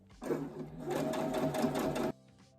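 Sewing machine stitching a curve after being sped up from its minimum speed, a steady fast whir running for about two seconds before stopping abruptly, close and moderately loud.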